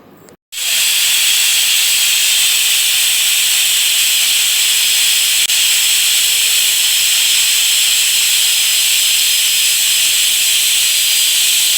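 A pressure cooker cooking soya chunk pulao on the stove bursts into a loud, continuous steam hiss after a brief quiet moment and keeps blasting without pause.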